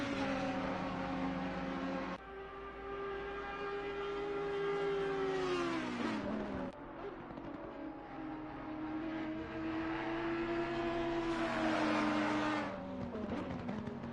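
Sim racing cars scream past at the Nurburgring, a loud high engine whine that rises through the gears, cuts off sharply on shifts and builds again, sounding alone with no talk.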